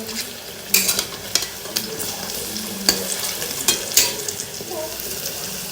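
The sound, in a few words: lentil fritters (dal bora) frying in oil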